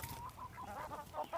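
Backyard chickens cluck in a series of short, soft calls, fairly quiet and close, with a few louder clucks toward the end.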